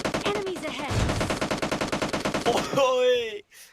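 Rapid automatic gunfire rattles from a multiplayer shooter video game in a fast, even burst of close, loud shots, and excited voices talk over and after it.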